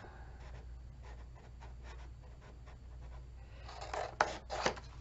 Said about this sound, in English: I'm going to cut the outside rectangle